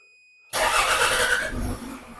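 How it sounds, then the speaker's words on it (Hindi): Toyota BJ40 engine cranking to life after sitting idle for a month, with a sudden loud start after silence, then a rough, steady idle that settles slightly quieter. "एक स्लब पे, सीधे स्लब पे स्टार्ट हुई है गाड़ी, बगैर किसी परेशानी के"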